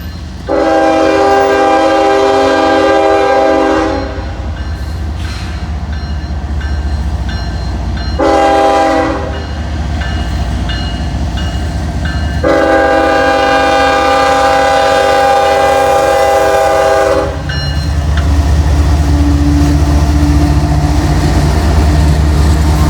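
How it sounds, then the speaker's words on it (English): A train rolls steadily through Cowan, Tennessee, with a loud, continuous rumble and several long blasts of its horn sounded in separate bursts. "Almost sound like there might be another train coming."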